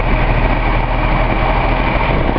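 A Datsun L28 fuel-injected engine idles steadily and close by, a constant low rumble with an even hum and no change in speed.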